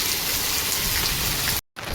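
Heavy rain pours steadily onto a surface at a farm during a downpour, a dense, loud, even hiss that cuts out for a moment near the end and then resumes.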